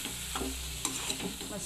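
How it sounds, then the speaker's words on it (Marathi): Prawns are stirred and tossed in a spiced onion masala in a hot pan, giving a soft, continuous sizzle broken by several scraping stirs and small clatters, fairly quiet and close, without talk. "आता आपण कोलंबी आहे ती घालून घेऊ आणि ती सुद्धा छान वर खाली करून अशी परतून घेऊ"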